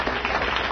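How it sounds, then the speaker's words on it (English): Audience applause, a steady broadband wash of clapping sustained for the whole short moment, with no voices over it. "plumbers always get applause here"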